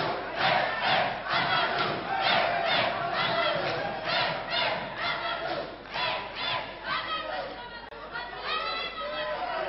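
A wrestling arena crowd roars, shouts and chatters continuously at full volume, a dense wall of excited voices with rising yells throughout.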